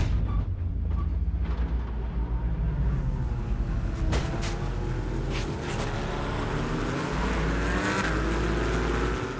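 A race car brakes into turn 1 at the Nürburgring race start. A loud, close engine roar drops in pitch as the car slows, with other engines rumbling around it.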